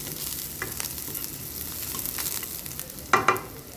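Garlic and onion sautéing in a pan before fried tofu is added, a steady frying sizzle with stirring scrapes and two sharp clacks near the end, with no talking.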